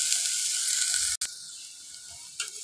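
Onions sizzling and frying in a pan on a home stove, a bright steady crackle that briefly cuts out, then resumes softer with a small flare of stirring near the end.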